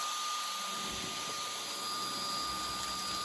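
A Samsung Jet 90 cordless stick vacuum with a soft roller struggles to pick up cereal on hardwood, its loud steady whine running with a constant high-pitched tone and rougher brush noise starting near the beginning.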